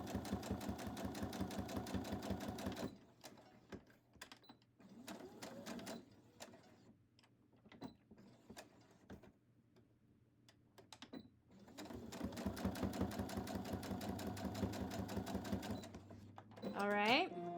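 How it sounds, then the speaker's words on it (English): A sewing machine stitches a folded fabric tab closed for a fabric box, running in two long steady bursts of close, rapid mechanical rattling with quieter handling and pauses between them. "now you have a little loop or a little like tab that you can sew"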